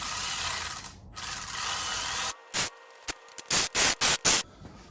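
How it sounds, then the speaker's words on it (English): A hand ratchet torques oil pan bolts on an LSA-swapped Suburban truck, giving a run of sharp, loud clicking bursts in quick succession after a stretch of steady background hiss, close and with no talking. "Always do the final pan torque by hand."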